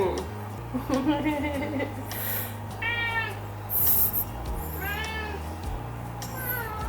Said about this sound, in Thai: เสียงแมวนะลูก